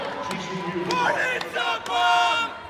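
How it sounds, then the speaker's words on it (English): Fans in the stands at a women's college volleyball match against Omaha scream and cheer loudly in swelling waves, with sharp shouts and ball thuds, while a commentator talks over the crowd. "As you can see on the screen, they're screaming, so excited up in the stands."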